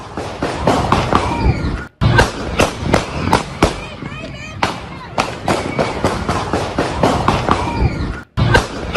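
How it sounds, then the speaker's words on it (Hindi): A masked attacker fires a gun in an American shooting, and the shots come as rapid, loud bursts in quick succession with a few short pauses, mixed with voices. "जरा गोलियों की थड़थड़ाहट की आवाज सुनिए।"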